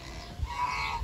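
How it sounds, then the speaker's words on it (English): At an animal garden, geese give a brief honking call, a short nasal note rising over low handling noise and bumps, close by. "Look at the geese."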